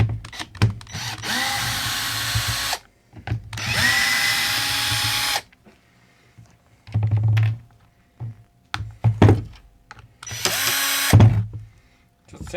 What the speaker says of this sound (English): I'll just see if I've got enough clearance for the electric screw gun to fix this